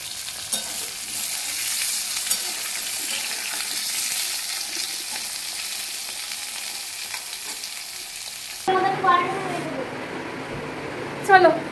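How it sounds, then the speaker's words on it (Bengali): Vegetables fry in a pan with a steady, loud sizzle and occasional stirring scrapes, before a quieter stretch with what sounds like voices at the end. "আর এখানে সবজি ভাজা হচ্ছে।"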